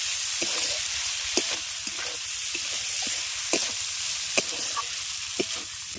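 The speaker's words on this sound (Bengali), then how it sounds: "সবজিগুলো দিয়ে মশলার সঙ্গে সবজিটাকে খুব ভালো করে কষিয়ে নিচ্ছি" Fried vegetables tossed with spice masala in a pan for vegetable dal, sizzling steadily while a spoon knocks and scrapes in an uneven rhythm, close and without talk.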